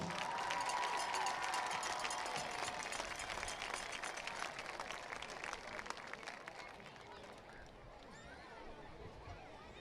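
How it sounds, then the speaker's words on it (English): A crowd at a high school varsity football game applauds the Little Knights cheerleaders, a broad wash of clapping and cheering mixed with crowd babble, heard at a distance and slowly fading. "how about one more round of applause for our Little Knights cheerleaders?"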